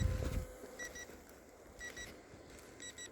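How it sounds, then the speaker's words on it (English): A Sky Reaper A310 drone's low-battery warning: quick, faint electronic beeps repeat in short pairs at regular intervals over quiet wind-like background noise. "It's beeping because the battery's low."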